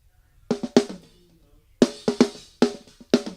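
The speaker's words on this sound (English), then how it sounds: "This sounds like a snare drum." Short, punchy snare drum hits with abruptly cut-off tails, played in a loose rhythmic pattern, close and dry.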